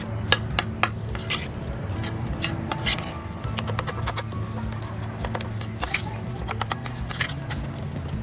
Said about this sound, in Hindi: अब इन सारे मसाले और दही को मैं अच्छी तरह मिक्स कर लूँगी।